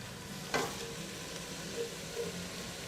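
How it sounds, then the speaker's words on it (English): Diced skin-on tomatoes tipped into meat frying in a pan, a soft sizzle with a sharp clatter as they land, then a few light stirring scrapes; no talking. "let's add the tomatoes now."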